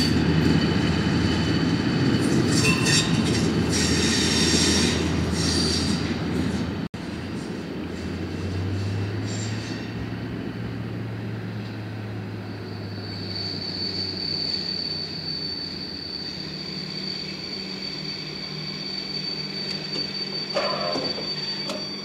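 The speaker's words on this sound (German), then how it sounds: "Dieses hässliche Geräusch, was da kurz zu hören war, das war die Weiche links von mir, die umgelaufen ist" A large three-axle shunting locomotive operated by Marti Tunnelbau passes a set of railway switch points at Spiez station, with the points moving alongside; steady close rail rumble with a rough burst early on and a thin, high squeal later.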